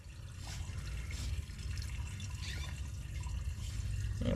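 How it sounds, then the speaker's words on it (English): Water runs through a sewer line during a camera inspection, a steady low rushing and trickling flow with faint drips, heard alone with no talk. "Water is running."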